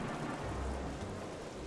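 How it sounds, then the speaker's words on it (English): Hail falling in the Shipwrecked survival video game, a steady dense rushing patter with low rumbling, brief and fairly soft, with no talk. "Now that's hailing, all this free hail"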